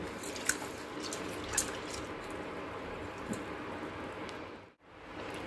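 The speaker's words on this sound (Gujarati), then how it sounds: "તો હવે આપણે એને 2-3 પાણીથી ધોઈ લઈએ" Wet splashing and swishing of water with a few sharp drips, steady and close, then a brief dip to near silence.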